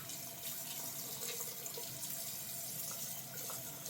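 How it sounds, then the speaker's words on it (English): Tap water running steadily into a bathroom sink, a continuous close hiss and splash with no breaks and no voices. "I am going to be using the sink"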